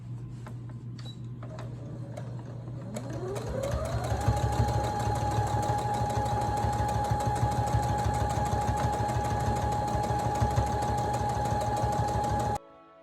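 A sewing machine stitches a St. Patrick's Day placemat, its motor humming and whining up in pitch as it reaches a steady, fast, continuous run close by, then cutting off abruptly.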